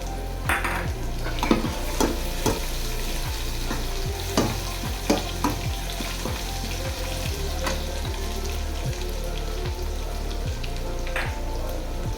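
Garlic and ginger fry in a pan with a steady, moderate sizzle, broken by repeated scraping strokes of a stirring spoon and occasional sharp clinks against the pan.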